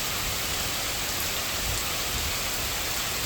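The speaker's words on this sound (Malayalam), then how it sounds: "നല്ല അടിപൊളി മഴയാണ് ഇവിടെ കേട്ടോ." Heavy rain pours down outdoors on a Sunday evening, a dense, even roar of drops hitting surfaces that stays loud and unbroken throughout.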